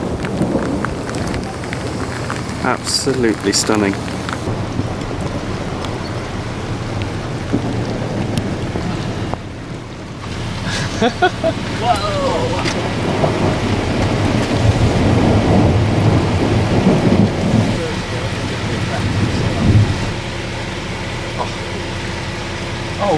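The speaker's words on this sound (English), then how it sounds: "Thunder and lightning cracking off." A severe thunderstorm with hail near Sallisaw, Oklahoma in May 2011, with steady heavy rain drumming on a vehicle, rumbling thunder rolling through, and excited voices talking now and then over the downpour.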